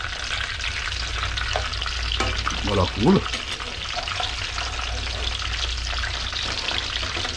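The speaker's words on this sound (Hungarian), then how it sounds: "És szép lassan, ugye, megsütjük. Óvatosan megfordítjuk" Hungarian-style meatballs fry in oil in a pan and are carefully turned, giving a steady sizzle throughout. A few clinks of handling sound partway through, and a person talks over the frying.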